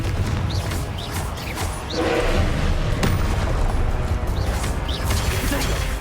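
Spell blasts from the Confringo fire curse in Hogwarts Legacy, heard as repeated booming impacts and crashes over a steady dense rumble of combat, with a thicker burst of noise about two seconds in.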